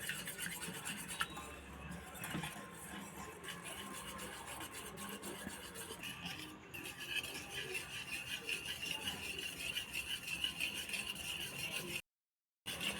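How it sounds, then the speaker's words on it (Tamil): An egg mixture with salt is stirred and mixed with a spoon in a bowl, giving a steady close scraping and rubbing texture with faint clinks, continuous and alone. "எல்லாத்தையும் சேர்த்துட்டு நான் அந்த ஸ்போக் வச்சு நல்லா மிக்ஸ் பண்ணிக்கிறேன்"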